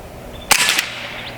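An AEA SF .30 caliber air rifle fires a single sharp, close shot, a short loud crack with a brief trailing burst and then quiet.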